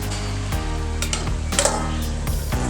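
Chicken curry with fried potatoes cooks in a covered pan, giving a steady close sizzle broken by a few sharp scraping clinks at regular intervals.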